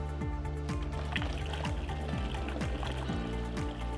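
Seascour marine descaler pours steadily into a Wheelhouse Turbo Junior pump, a continuous liquid trickle and splash heard close over a low, rhythmic mechanical hum.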